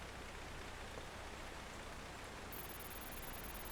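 Hail storm in the storm-chasing video game Outbrk: a dense, steady hiss of stones pelting a surface, continuous and fairly loud throughout, with no talking.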